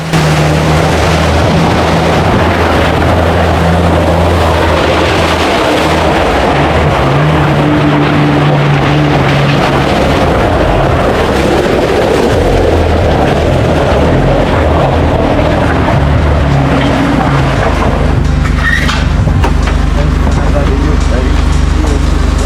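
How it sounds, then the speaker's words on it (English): An off-road car pushes through deep water in a narrow canyon, its engine a steady loud rumble mixed with rushing, splashing water and wind buffeting close to the microphone for the whole stretch. "Listen to the car."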